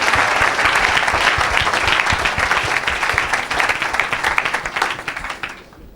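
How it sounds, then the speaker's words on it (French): A church audience breaks into loud, sustained applause for a pastor, dense clapping that stays strong and close for several seconds before tapering off near the end. "Acclame pour la grâce."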